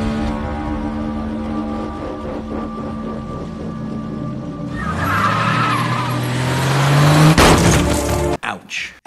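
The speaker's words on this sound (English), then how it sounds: "Speaking of car crashes" Car crash from a movie scene: engine and tire noise build into a loud skid, then a sharp impact with breaking sounds, followed by short choppy bursts, with music or voices running underneath.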